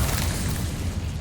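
An Incendio fire spell cast in Hogwarts Legacy bursts out as a dense, rumbling roar of fiery noise that holds loud and steady for just over a second, with no voices.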